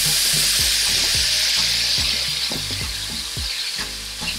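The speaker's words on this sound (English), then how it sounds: "the butter has rendered and started to brown. I'm gonna drop everything in" Lobster tail and crab claw meat fry in browned butter in a pan, giving a loud, close, steady sizzle broken by repeated scraping stirs.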